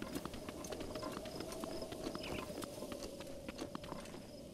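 Horse hooves clip-clopping steadily in Zelda: Breath of the Wild, a quick even trot under game ambience and music, fairly close and moderately loud throughout.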